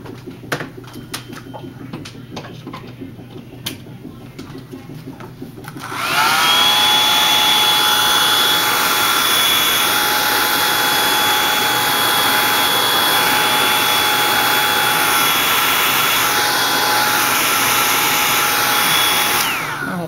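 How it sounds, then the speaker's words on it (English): A hair dryer switches on after a few seconds of faint background bird calls and then blows loud and steady, with a constant whine, to dry fresh acrylic paint. "Then of course I have to blow dry it."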